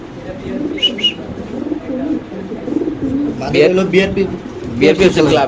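Satin pigeons coo in a loft, soft throaty rolling calls repeating close by while people talk over them, with a few sharper flutters and calls rising toward the end.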